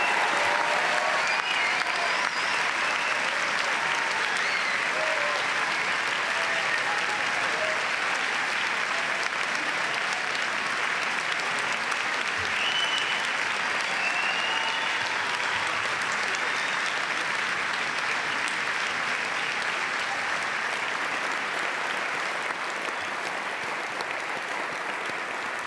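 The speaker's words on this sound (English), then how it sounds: "please join me in a round of applause for the graduates and their families" Sustained audience applause for graduates at a university commencement ceremony, dense steady clapping from a large crowd that continues for the full span without pause.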